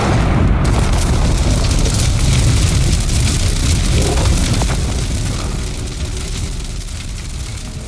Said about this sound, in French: une explosion retentit à l'étage 326 de la fosse numéro 3